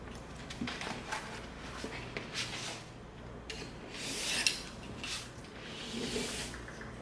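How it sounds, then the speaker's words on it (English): Knife cutting through stacked 12 mm EVA foam pieces for a prop P90 gun, quiet rasping and rubbing strokes in short uneven bursts, close and soft, with brief pauses between cuts. "we're going to cut this little window out of both"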